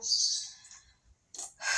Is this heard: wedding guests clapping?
no